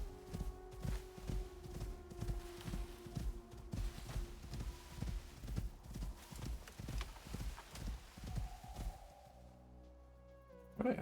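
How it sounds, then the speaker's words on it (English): Hooves of a Terror Horse clip-clop steadily in the survival game Icarus, a clear regular walking rhythm of close thuds that continues for several seconds, then stops as a brief tonal game sound rises. "I hear Terror Horse."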